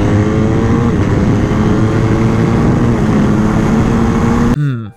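Honda RC213V-S motorcycle engine running at high revs, a loud, harmonically rich, steady mechanical howl close by that holds for several seconds, then cuts off abruptly with a quick falling decel as the throttle closes.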